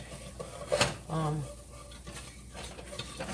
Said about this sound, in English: And I'm going to stir this flour.